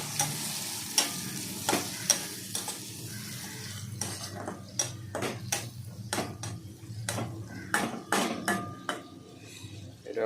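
A spoon stirs soybean, egg and potato curry in a pan, with sharp, irregular scrapes and clacks against the metal over a soft background sizzle, heard up close without speech.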